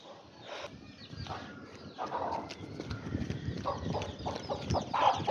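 Chickens clucking around an enclosure, irregular calls and short squawks over low rustling background noise, fairly close and moderately loud without speech.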